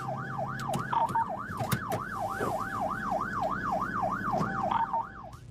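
A police siren wails in a fast, regular up-and-down cycle, close and prominent, over road noise and a few sharp knocks.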